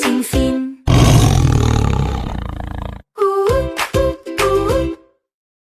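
Lion roars in a children's animal song, one long rough roar followed by a series of shorter growling roars, loud and close, ending in silence.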